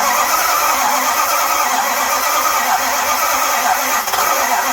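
Mopar 440 engine in a motorhome cranking and trying to start, a loud, steady, coarse mechanical roar that runs unbroken for several seconds, with a brief dip near the end.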